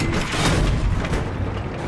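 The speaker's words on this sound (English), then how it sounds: "Shoot this building down" M1 Abrams tank cannon in Battlefield 3 firing at a building, heard as a dense, continuous rumbling boom with heavy low-end blast and debris noise filling the whole stretch, loud and close with no talk over it.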